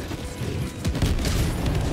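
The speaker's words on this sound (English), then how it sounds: "I'ma drop a 500 kilo bomb on it." A 500 kilo bomb dropped in the video game Helldivers 2 goes off as a deep, rumbling blast, with a heavy low boom swelling and rolling on, close and loud, with no talking over it.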